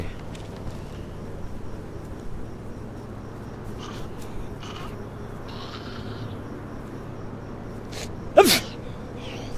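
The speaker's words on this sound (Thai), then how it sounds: "โอ้โห มันจามดังซะด้วย" A character in DayZ lets out a single loud, sharp sneeze near the end, standing out over a steady bed of cricket-like insect chirring and faint background noise.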